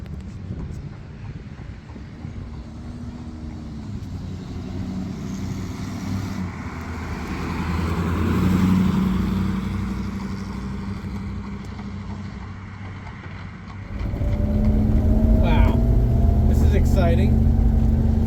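A 1961 Buick Skylark fitted with new shocks drives along, its engine a steady low rumble mixed with wind buffeting, swelling louder near the end as it picks up speed, with someone talking over it.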